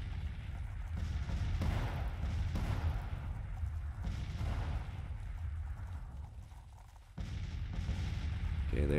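Artillery firing in the Civil War strategy game Grand Tactician: a continuous, rumbling barrage of deep booms rolling in overlapping waves, loud and low, briefly dipping before another heavy burst.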